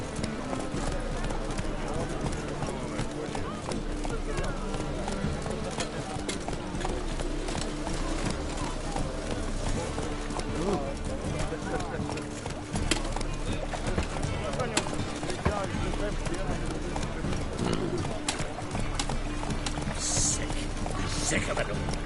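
Roach the horse galloping in a video game, a dense, continuous layer of hoofbeats blended into loud game music and effects that run unbroken throughout.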